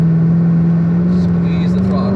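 Corvette C7 ZR1 V8 droning loud and steady from inside the car on a track at Spring Mountain, a strong low engine tone held under throttle while an instructor talks over it.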